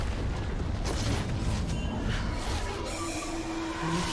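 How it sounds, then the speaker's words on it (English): Turret being destroyed in League of Legends, a loud rumbling crash and crumbling boom with layered game effects that sustain throughout the short moment. "Blue team's turret has been destroyed."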